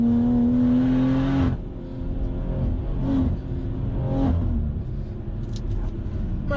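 BMW M240i fitted with a Wavetrac limited slip differential, driven hard through canyon corners: a loud, steady engine drone that dips and swells as the car brakes and accelerates between bends, with faint tyre and wind noise.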